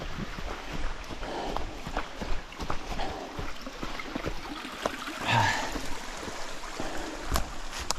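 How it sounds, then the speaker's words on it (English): A small creek trickles and burbles faintly while someone crosses it on foot outdoors, with scattered soft splashes and footstep knocks over a low, continuous water wash. "Love all these little creeks that you cross."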